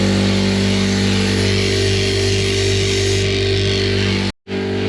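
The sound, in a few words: air compressor running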